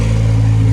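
A Honda Civic EF with a B16 engine idles steadily while reversing, a loud, close, continuous low engine hum with a constant tone and no revving, and no one speaking.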